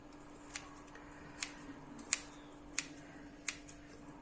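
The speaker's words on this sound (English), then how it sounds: "adding my coriander leaves and the shortcut method with my kitchen scissors" Faint, evenly spaced snips of kitchen scissors cutting coriander leaves, about six soft cuts over a quiet background hum.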